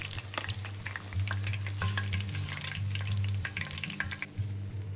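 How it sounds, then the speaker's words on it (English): Chicken leg quarters fry skin-side down in their own rendered fat, giving a close, continuous crackling sizzle with scattered pops and spits throughout. No one speaks. "We're going to do the same second fry on the bottom before removing it and allow it to rest."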